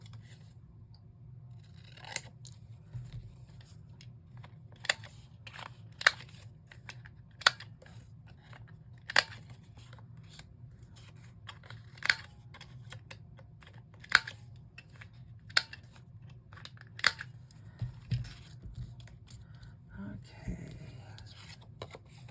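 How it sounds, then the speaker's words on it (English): Scissors snipping during a craft project, sharp isolated cuts spaced a second or two apart across a quiet room, with soft talk and low background hum between them. "We better snip off some of this one too."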